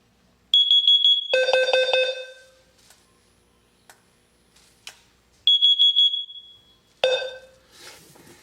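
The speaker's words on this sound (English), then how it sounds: "the L series is doing a carbon monoxide alert" Fire Lite L series carbon monoxide detector sounding its alarm during a Fire Lite MS-9200UDLS panel test: loud, shrill electronic beeps in a short cluster, a pause, then further bursts, close up.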